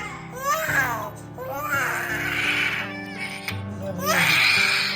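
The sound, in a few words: child crying during ear piercing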